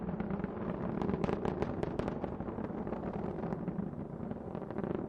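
Delta IV Heavy rocket engines at launch, a continuous broadband roar with crackling bursts, steady and dense throughout with no talking.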